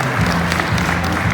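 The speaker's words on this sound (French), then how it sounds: "Très difficile, on l'applaudit." Steady clapping from a crowd at a motorcycle show, cheering a stunt rider, forms a short, even burst of applause at moderate loudness.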